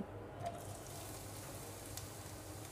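Chopped onion frying in mustard oil with whole garam masala, a faint, even sizzle that holds steady throughout with only slight flickers.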